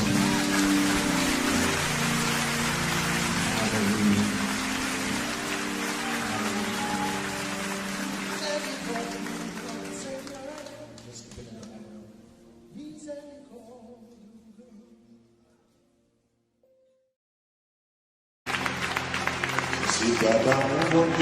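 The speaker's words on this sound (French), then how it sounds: "on applaudit" A church congregation at a praise service breaks into sustained, dense applause with cheering that swells and then dies away into near silence before loud applause resumes.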